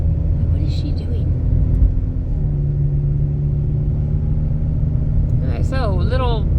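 A 2009 Chevy Cobalt's 2.2-litre four-cylinder engine heard from inside while driving, a steady low hum and rumble with a brief shift in pitch midway, joined near the end by a warbling higher tone.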